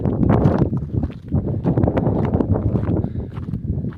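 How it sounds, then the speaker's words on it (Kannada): Cold wind blows steadily at Raanijari in Chikkamagaluru, a loud, close rumbling gust buffeting the microphone with rustling mixed in for the whole stretch. "ಏನು ತಣ್ಣು ಗಾಳಿ ಬರ್ತಾ ಇದೆ."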